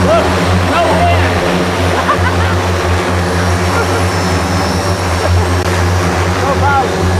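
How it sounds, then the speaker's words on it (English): A one-person passenger drone lifts off outdoors in calm air, its many rotors producing a loud, steady droning hum with a low buzzing tone that holds throughout, while people talk nearby. "All right. Taking off."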